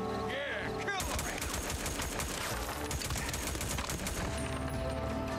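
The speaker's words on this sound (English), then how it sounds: "I love that I have this gun now." Rapid automatic gunfire from a weapon in the video game Days Gone, loud and sustained bursts of shots with clattering impacts, beginning after a brief quieter moment and continuing throughout.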